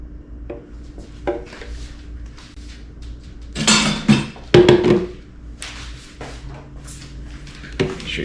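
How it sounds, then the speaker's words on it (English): Thick keto cheesecake batter dumped and scraped from a bowl into a baking pan in a kitchen, with a few scraping and clinking sounds clustered midway, some louder knocks, and quieter handling noises around them. "we're gonna go ahead now and just take it and dump it into a pan"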